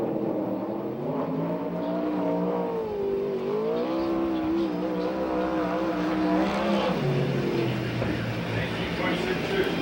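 A USAC/CRA sprint car at Perris, California circles the dirt oval with a continuous, rising and falling engine drone, pitch sweeping with throttle, under a track announcer's voice.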